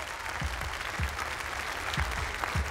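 An audience applauds the sixteen candidates at a national cheesemaker competition, a dense, steady wash of clapping from a large crowd that fills the short stretch with no pauses.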